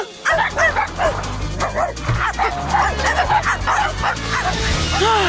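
Cartoon dog yipping, barking and whimpering in a steady run of short, close, loud calls over a low music bed, from a Blaze and the Monster Machines episode.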